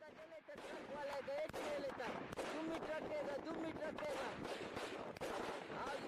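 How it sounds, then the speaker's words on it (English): Gunfire from Baluchi militants shooting at a Pakistani military convoy, rapid cracking bursts and scattered shots, faint and distant, repeating throughout with voices and shouting mixed in. "You are seeing through the perspective of Baluchi militants firing on a Pakistani military convoy."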